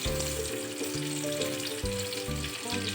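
An egg fries in hot oil in a pan with a constant bright sizzle, while a low rhythmic bubbling pulse repeats underneath every half second or so.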